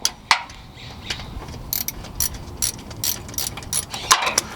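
Hand ratchet loosening a bolt on the AC compressor of a 2004-2008 Ford F-150, giving rapid clicking pawl bursts of varying length close to the mic, with a sharp knock near the start and no talking.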